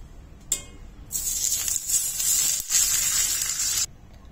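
Two spoonfuls of ghee heating in a kadai on a gas stove give a steady close sizzle and hiss that lasts a few seconds, after a brief click.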